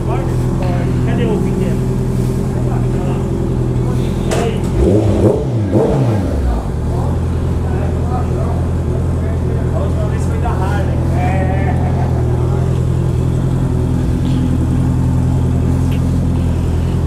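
A Honda CB 650 F motorcycle fitted with an Atalla 4-into-1 stainless steel exhaust idles steadily, then revs sharply a few times before settling back, loud and close throughout, with voices talking over it.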